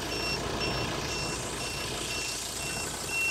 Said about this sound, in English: The thing behind you that's beeping